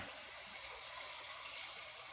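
Water from a tap runs in a steady, hissing stream into a container, quiet and continuous with no voices.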